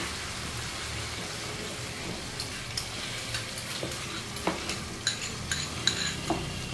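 A spoon stirs sour yogurt into a mashed chicken marinade for a roast, a soft wet squelching bed with a run of small, irregular clicks and taps against the bowl that grow more frequent toward the end.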